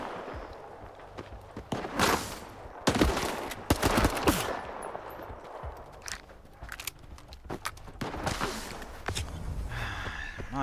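Scattered gunfire crackles in bursts during a firefight in S.T.A.L.K.E.R. 2, sharp shots spaced irregularly among footsteps and breathing, moderately close and uneven in loudness.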